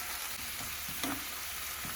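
Ridge gourd curry with fenugreek leaves, ginger and garlic sizzles steadily in a pan as a spoon stirs turmeric through it, with a few soft scraping strokes over the constant frying hiss.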